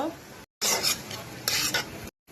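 Sliced onions hit hot oil for chicken haleem and a spoon stirs them through the pan, giving two bursts of bright sizzling and scraping between short silent gaps.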